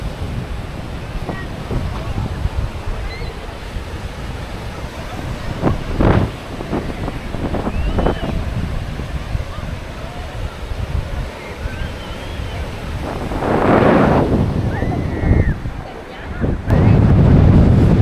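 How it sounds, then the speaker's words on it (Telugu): Waves and strong wind at Knokke-Heist north beach in Belgium, a loud steady roar of surf with wind buffeting the microphone, swelling near the end. "సో మేమైతే మొత్తానికి నార్త్ బీచ్కి అయితే వచ్చేసాం"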